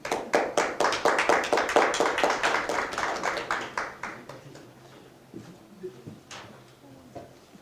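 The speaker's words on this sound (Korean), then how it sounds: "이선식 사무관님 앞으로 모시고 큰 박수로 환영해 주시기 바랍니다" An audience at a Korean hospital association seminar and awards ceremony claps in welcome as a speaker comes forward. The applause is rhythmic and fairly loud, then thins out after a few seconds into scattered claps and light room noise.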